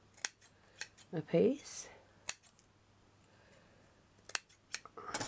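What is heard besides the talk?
scissors snipping out a piece for a miniature caravan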